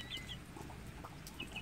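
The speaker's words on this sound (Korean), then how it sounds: "꼬꼬야, 일로 나왔나?" A chicken clucks close by with a few short, bright calls near the start and again toward the end, over steady low background noise.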